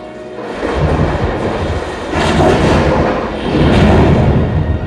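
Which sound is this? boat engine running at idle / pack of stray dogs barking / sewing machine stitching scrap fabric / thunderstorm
thunderstorm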